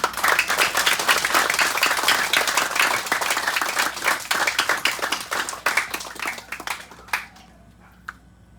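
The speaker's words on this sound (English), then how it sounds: "can you give them applause" Wedding guests in Guam applaud newlyweds Mr. and Mrs. Glen Lorenzo in a sustained, dense burst of clapping that gradually thins and fades out, leaving a few scattered claps near the end.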